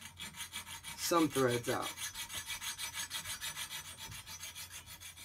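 A small hand saw cuts back and forth through a metal all-thread rod, making rhythmic rasping strokes at close range; a voice speaks briefly near the start.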